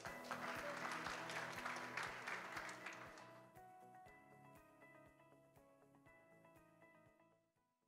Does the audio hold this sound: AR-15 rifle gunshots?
no